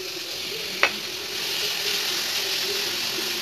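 Grated carrot sizzles steadily in a pan over low heat as it is stirred for a South Indian carrot poriyal. A brief scrape of the spoon cuts through the continuous close frying hiss.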